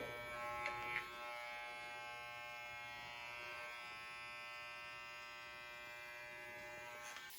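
Hair clippers fitted with a number 3 guard cut hair for a blended Eurohawk, giving a steady, close electric buzz with a few faint clicks near the start, running on without any talking.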